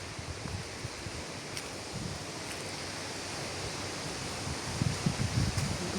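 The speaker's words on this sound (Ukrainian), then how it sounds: "Вітер такий тут піднявся." Steady outdoor wind roaring and buffeting against the microphone, broadband rushing noise that swells slightly louder near the end, with no one talking.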